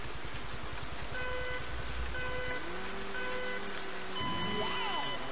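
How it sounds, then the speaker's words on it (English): Rain falls in the Mario Kart 8 Deluxe video game as a steady hiss under a kart engine's buzzing drone, beeping game tones and a sliding pitch effect. "Oh dear, it's raining."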